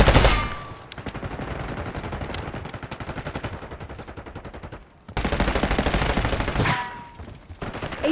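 Sustained automatic gunfire in Call of Duty: Black Ops 6, loud and close, with rapid rattling bursts broken by a brief pause, then another heavy volley and a few trailing shots.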